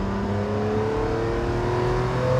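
A Ferrari 456 GTA V12 with a torque-converter automatic transmission accelerates hard: a loud, continuous engine roar heard close up, its pitch climbing steadily with no voices.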